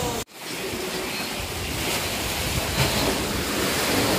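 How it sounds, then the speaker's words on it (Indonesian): Big ocean waves at Dungkek harbour, a steady broadband roar of surf with wind buffeting the microphone, continuous and fairly loud after a brief dip at the start. "Ombaknya besar guys."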